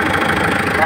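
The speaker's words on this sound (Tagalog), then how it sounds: "Pag-iinit na, makina." A 2015 Mitsubishi Pajero engine idles while warming up after intake manifold cleaning, a steady close mid-pitched drone with a faint knock, running on its own without interruption.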